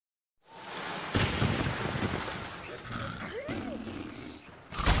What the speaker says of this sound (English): A tropical storm is coming